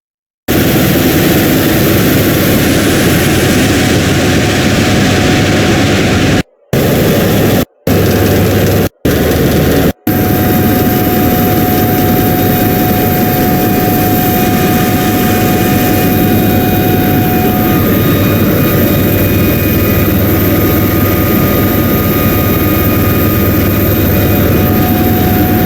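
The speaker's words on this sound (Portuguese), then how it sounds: "a forma de chegar nessas plataformas é por helicóptero mesmo" Helicopter flying out to an offshore oil platform, a loud steady rotor and turbine roar with broadband hiss running throughout, briefly cut by a few short gaps near the start.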